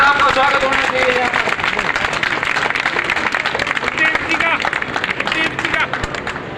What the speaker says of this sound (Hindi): एक बड़ी जोरदार तालियों के साथ चेयरमैन साहब का स्वागत होना चाहिए